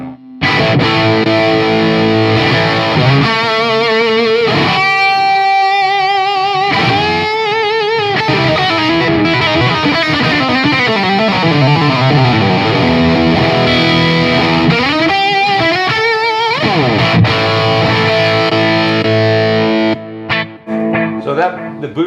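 An electric guitar runs loud through an amp with its MOSFET overdrive boost switched on, giving a thick, driven sound. The guitar plays continuous sustained chords and bending lead lines, then cuts off into choppy notes at the end.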